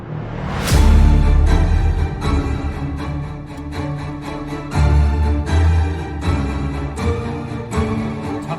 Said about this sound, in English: These are full-on movie trailer sound effects.